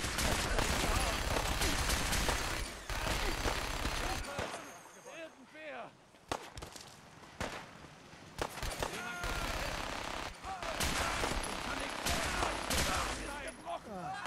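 Rapid rifle gunfire in Fallout 4, dense bursts of loud automatic shots rattling in long volleys, broken by a short quieter gap with scattered single shots before the heavy firing resumes, and a voice speaks briefly over it.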